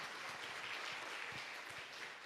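Congregation applauding the word of God at a church service on baptism in the Holy Spirit, a steady wash of clapping at moderate distance, fairly quiet and even throughout with no talking.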